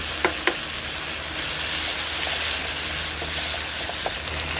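Tomato sauce sizzles in a pan for chicken asado, a dense, steady hiss of frying close by, with a few brief knocks of a utensil near the start and end and no talking.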